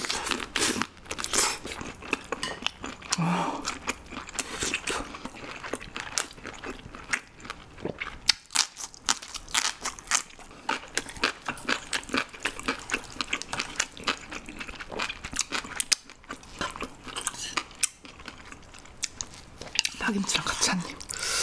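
Crunchy shrimp being bitten and chewed up close, a dense run of crisp crackling crunches and wet mouth sounds continuing steadily throughout.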